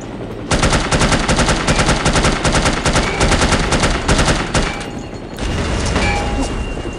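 Rapid automatic gunfire in The Operative: NOLF, aimed at a helicopter during a motorcycle-versus-helicopter fight, loud and close, firing in dense bursts for most of the moment with a brief lull before resuming under rumbling engine noise.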